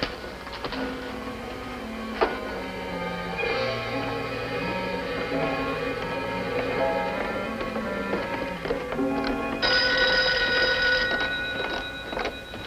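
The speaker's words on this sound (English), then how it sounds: "I'll answer the phone." An old-fashioned telephone bell rings in a vintage radio crime drama, its trilling mixed in with music over roughly twelve seconds and growing brighter near the end.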